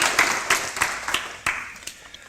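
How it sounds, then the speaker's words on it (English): A small audience at a Buddhist teaching on the Bodhisattva precepts claps, with scattered, fairly soft claps that thin out and fade after a couple of seconds. "now you all can clap"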